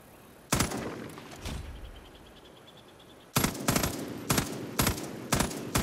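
Bursts of automatic gunfire in Far Cry New Dawn: one short burst, a gap holding a faint tonal beeping, then a run of loud, evenly spaced volleys filling the second half.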